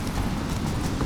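Quick rhythmic hoofbeats from the horse Roach galloping in The Witcher 3, a steady close clip-clop over a short run.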